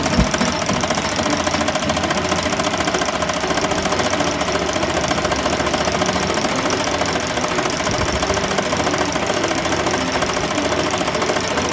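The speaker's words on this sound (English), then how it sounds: "I just need to hit the go button so that the machine will start to sew" A computerized embroidery machine starts stitching with a size 14 needle, its fast, steady mechanical clatter running loud and continuous throughout with no pauses.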